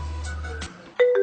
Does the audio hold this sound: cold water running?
no